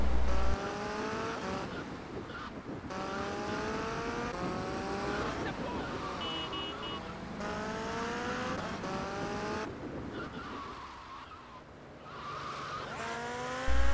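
PCJ600 motorcycle in GTA Vice City, its engine whining through repeated rising gear sweeps along with tyre squeals and traffic noise, loud and continuous, with game sounds mixed in.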